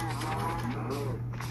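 A Minecraft cow lets out a drawn-out, wavering moo that is close and fairly loud, over a steady low hum, with no talk over it.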